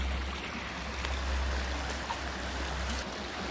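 A stream running over a rocky riffle makes a continuous broadband rush and splash, steady and fairly close, with no talk.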